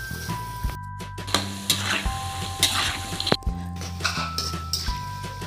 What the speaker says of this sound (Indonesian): Kita goreng terlebih dahulu kacang tanahnya sampai matang.